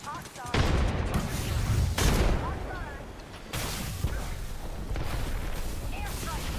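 Video game combat with a loud airstrike and gunfire, heavy booming blasts and rattling shots close and continuous, with several bursts over a few seconds.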